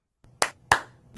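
Two sharp hand claps from a Clapper sound-activated switch commercial, spaced about a third of a second apart and followed by the start of a third, crisp and close in an otherwise quiet setting.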